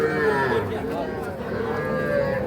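Cattle moo loudly and at length at a busy cattle market selling young bulls and heifer calves, with crowd chatter and voices murmuring underneath.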